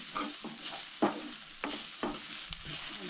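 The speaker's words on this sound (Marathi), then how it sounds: "रवो आमचो बरो फुलोवन घेवंक जाय" Semolina (rava) stirred and roasted in a pan for Goan soji with cucumber and carrot: close, repeated scraping strokes roughly every half second over a light dry sizzle, with no talking.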